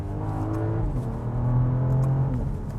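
A 2025 BMW X3 M50 engine, with artificial sound enhancement switched off, downshifts with a steady, loud, close drone whose pitch drops and then swells, with no talking.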